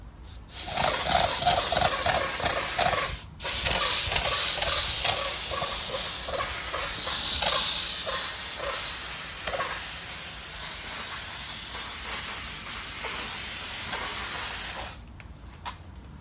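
A Grant steamer from Harbor Freight hisses steadily against an SUV's exterior, a loud continuous spray broken by one short pause, then fading out near the end.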